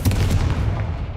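A Confringo fire spell blast from Hogwarts Legacy bursts out as a single loud, booming explosive hit, with a heavy low rumble that decays over about a second.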